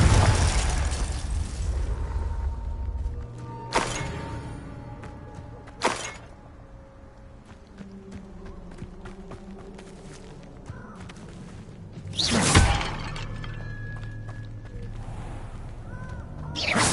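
A Confringo blasting spell explodes in a Harry Potter video game, a few sharp booming bursts scattered among lighter magical effects and rumble, moderately loud.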